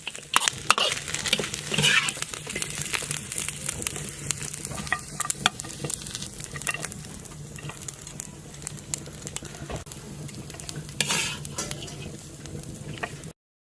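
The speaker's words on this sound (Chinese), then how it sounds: "今天的家常版爆炒鸭汁就做好了" Home-style stir-fried duck sizzles in a pan with sesame seeds, a continuous close crackle broken by repeated scrapes and clatter of stirring, with no talking.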